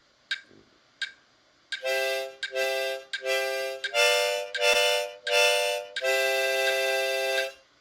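Harmonica: three short puffs followed by three short draws, then one long sustained note, clear and close with no voices.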